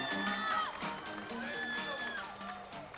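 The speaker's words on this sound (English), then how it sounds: "ladies and gentlemen, can we applaud those two guys?" Crowd at an international boxing event cheering and applauding two boxers, a loud, steady wash of voices and clapping with whoops rising over it, filling the whole stretch.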